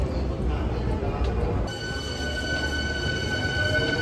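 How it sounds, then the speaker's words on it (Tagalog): Train riding through Osaka, Japan, a steady close rumble of wheels on rails from inside or beside the car, with a faint high whine setting in partway through and muffled voices in the background. "Ang ganda ng train na to."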